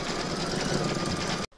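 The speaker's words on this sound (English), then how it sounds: "Load the thread that you want for your quilting into your machine and stitch round number 4." An embroidery machine stitches a quilting round on an in-the-hoop heart banner, a steady, loud, even whirring hum that runs on and then stops abruptly.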